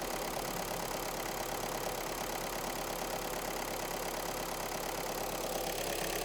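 A VW Golf engine, recently repaired, idles with a steady, even rumble and a faint rhythmic knock, continuous and unchanging throughout.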